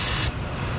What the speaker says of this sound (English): Get myself a can of brake clean. I'm gonna come in here and spray down the area